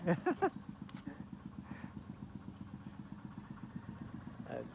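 A boat engine putters steadily at low speed, a quiet, even chugging with a few brief knocks at the start.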